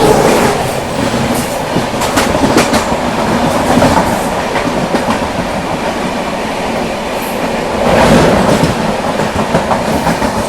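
The Pune–Nagpur Garib Rath Express overtakes on a parallel track, its wheels clattering in a loud, continuous, rhythmic clickety-clack close by, swelling slightly toward the end.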